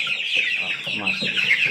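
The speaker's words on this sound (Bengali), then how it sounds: "মা মুরগি আছে 40টা" Forty mother hens on a small farm cluck in a steady, close, overlapping chorus of short calls, with a bright high chatter of chicks or birds throughout.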